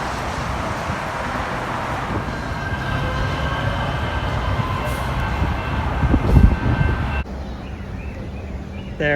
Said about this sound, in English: LA has 4 other Metro lines, but these all use light rail vehicles like this one